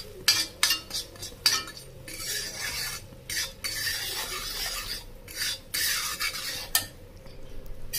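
Masala frying for mango pickle is stirred in a pan, the spoon scraping and clinking against the metal in irregular bursts, close and fairly quiet, with no talking.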